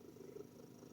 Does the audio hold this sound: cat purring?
yes